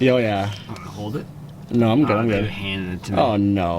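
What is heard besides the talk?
No everyday noise stands out behind the speech.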